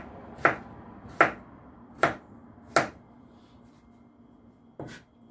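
A knife cutting through pumpkin on a board, four sharp evenly spaced chops followed after a pause by a fifth, each a crisp close thud-crack over a quiet background.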